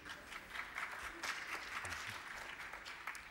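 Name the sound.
lackluster applause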